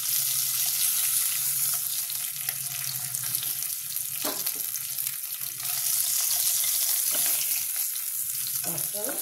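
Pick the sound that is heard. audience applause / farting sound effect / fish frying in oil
fish frying in oil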